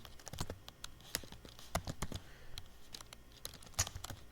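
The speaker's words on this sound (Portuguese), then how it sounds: "Se a gente digitar aqui" Quick, uneven keystrokes tapped on a computer keyboard, sharp close clicks in short bursts with small pauses, no talking.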